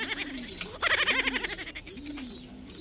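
A pigeon or dove coos nearby in a few soft, rolling phrases, with faint background noise and no talk over it.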